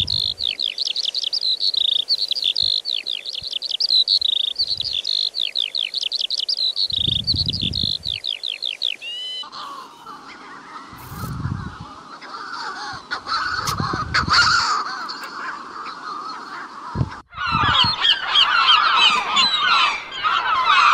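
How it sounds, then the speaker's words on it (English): Recorded coastal bird calls played back through a speaker, starting with a rapid series of high chattering calls, then harsher honking and cawing cries with low thumps, loud and close throughout. "I'm just going to try and play some bird calls for you"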